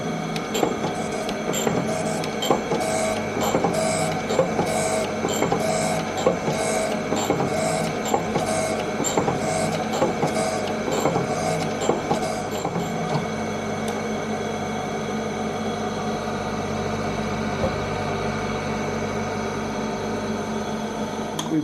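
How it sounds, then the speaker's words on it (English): Steady grinding of the face of an engine centre main cap on a workshop grinder, a continuous mechanical hum with faint rhythmic throbbing that runs unbroken and fairly loud throughout. "from the milling machine over to the grinder"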